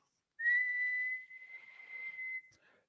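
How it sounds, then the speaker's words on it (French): Someone whistles a single steady note held for about two seconds, clean and close, with no other sound around it. "on va juste siffloter un petit coup ou tenir une note"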